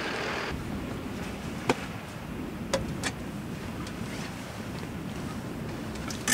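Sea at night close to the shore, heard as a low steady wash of water and wind noise, with a few faint sharp ticks scattered through and no voices.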